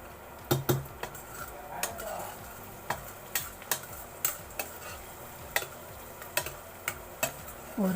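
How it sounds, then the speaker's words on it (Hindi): Onions fry in a pan with a steady background sizzle, punctuated by sharp spatula taps and scrapes that recur irregularly, roughly every half second, close up. "यहाँ मैं थोड़ा थोड़ा करके प्याज को भून रही हूँ।"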